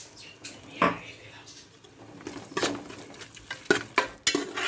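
Intermittent scraping and clinking of a spoon stirring peas, carrots, beans and crushed spice powder in a pan for veg biryani, a few sharper strokes spaced irregularly against quiet kitchen background.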